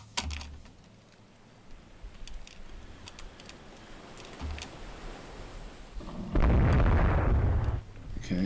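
Naval gunfire from a pair of 3-inch guns on the ship Taranto in the Rule the Waves 3 naval strategy game: sharp booming reports, one heavy low blast near the end, amid mouse and keyboard clicks, no talking.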